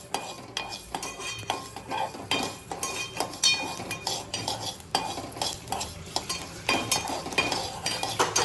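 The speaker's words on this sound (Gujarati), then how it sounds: "અને આ દાણા બધા કાળા થઈ જાય ને બ્લેક, ત્યાં સુધી શેકી નાખવાની" A utensil repeatedly scrapes and rattles through dry seeds roasting until black in an aluminium pan, with a rhythmic stirring and faint sizzle, close and steady.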